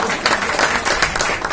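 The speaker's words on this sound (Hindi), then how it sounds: "उनके लिए मैं जोरदार तालियां चाहूंगा।" Audience applause fills a business event hall in Mauranipur, a dense, steady clatter of many hands clapping continuously and fairly loud throughout.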